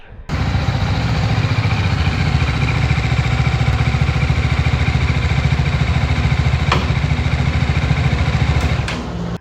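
A BMW G 310 motorcycle engine idles steadily at close range, a continuous loud rumble that holds level for several seconds and then stops.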